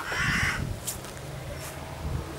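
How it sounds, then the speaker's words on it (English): Crows caw outdoors in nature, a loud harsh call near the start followed by a couple of fainter, more distant caws over quiet background. "Fucking birds."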